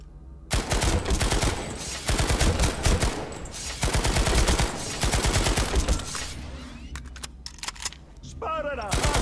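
TR carbine gunfire in a video game, fired in repeated rapid bursts from close up with short pauses between volleys, and a voice talking lightly underneath.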